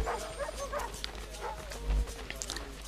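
A puppy in Assassin's Creed 3 gives several short, close barks and yips, scattered irregularly over a busy background of game ambience.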